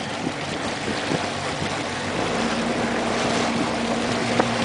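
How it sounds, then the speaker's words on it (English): Outboard motor running on a small boat, a steady close mechanical drone with water and wind noise, holding level and growing slightly louder toward the end. "when you run this motor, you want to make sure it's all the way down"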